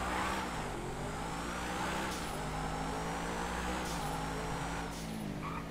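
An Adder supercar in GTA 5 Online drives with a steady, continuous engine drone and road rumble, holding fairly even throughout with faint shifts in pitch.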